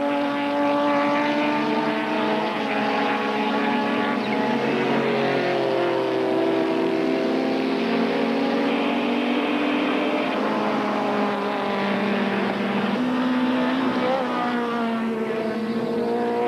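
Modified race cars, among them an Opel Calibra, lap the Killarney circuit in a 1992 Wesbank Modifieds race, a continuous engine drone with shifting pitch as cars pass and change gear, loud and steady throughout with no talk.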